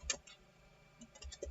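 A few crisp keyboard key clicks, one near the start and a quick cluster near the end, with a quiet pause between them.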